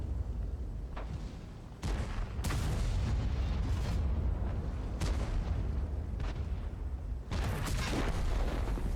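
Tank cannon shots and booming explosions from World of Tanks battle gameplay come as several loud, sharp blasts spread across the stretch, with a constant rumbling game ambience between them.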